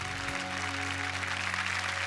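A studio audience on the Marathi TV game show Jau Bai Gavaat claps steadily and fairly loudly, the applause sustained over background music.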